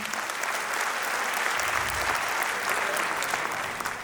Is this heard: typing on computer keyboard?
no